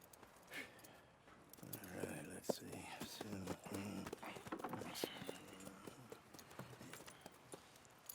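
Hooves of a horse clip-clop on the ground in Red Dead Redemption 2, a run of close, distinct knocking steps while someone talks quietly over them.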